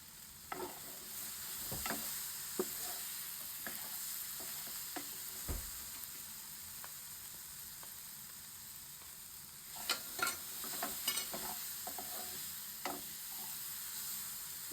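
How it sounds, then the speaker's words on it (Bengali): Sausage frying in a frying pan, a quiet steady sizzle with scattered stirring scrapes and a few sharper clicks, busier near the end, no talking. "আমরা ভাজবো ততক্ষণ আপনারা দেখতে থাকেন"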